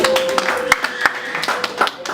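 A church congregation claps in a quick, irregular burst of applause at close range, with voices and a sustained tone underneath.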